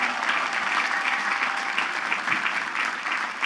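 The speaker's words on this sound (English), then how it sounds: "Let's have a round of applause for them as well." Steady applause from a large audience at a Queens College commencement, honoring armed forces members; dense continuous clapping at fairly even loudness throughout.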